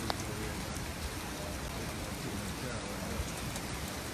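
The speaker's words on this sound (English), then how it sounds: "It's raining" Steady rain falls throughout, a dense continuous hiss of drops with no breaks and no talk over it.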